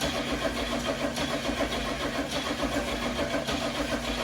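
1977 Ford F150 4x4 engine turning over during a first start attempt on a new fuel pump, a steady rhythmic cranking churn held at moderate loudness throughout without catching.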